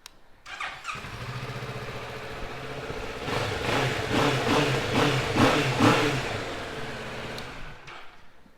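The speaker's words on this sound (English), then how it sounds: "Great sound from that parallel twin engine." A 2019 Kawasaki Ninja 650 ABS KRT parallel-twin motorcycle cranks, fires and settles into a steady idle nearby, then gives a series of rhythmic throttle blips before easing back down.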